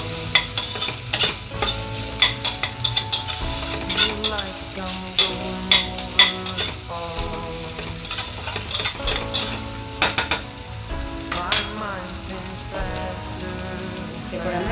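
Mixed vegetables for fried rice sizzle in a hot pan while being stirred, with repeated scraping strokes of a spatula over a steady frying hiss and background music.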